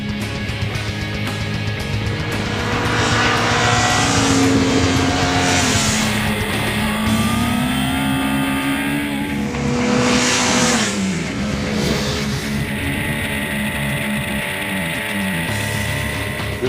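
A Yamaha YZF-R1 liter superbike with a cross-plane, big-bang firing order engine ridden on the street, roaring loud and close throughout as the revs rise and fall in long sweeps, with no talking.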